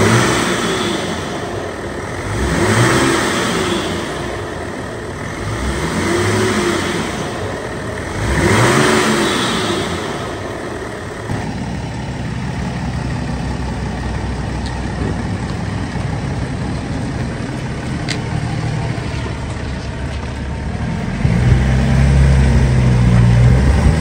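A BMW E60 530d diesel engine runs after starting, with three swelling revs early on, then a steadier rumble and a louder rise near the end, close and without voices.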